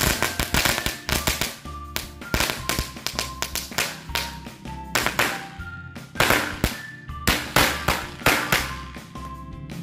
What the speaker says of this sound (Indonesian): Selanjutnya kita nyalakan mercon korek Smoke Mini Stick SMS Witour.